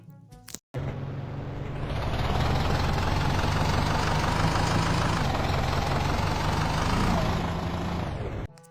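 A bus engine in the Indian Bike Driving 3D video game starts with a brief click, then holds a loud, steady, buzzing drone like an autorickshaw, rising slightly before fading at the end.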